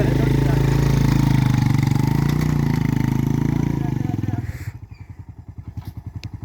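A motorcycle engine runs loud and close on the rocky Panjpeer Rocks track, then drops to a slower, pulsing idle as the bike is brought to a stop.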